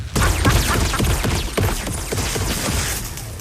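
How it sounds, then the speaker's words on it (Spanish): A rapid volley of sharp gunshots cracks out in quick succession, loud and dense, with no voices. "recibido con muchos disparos"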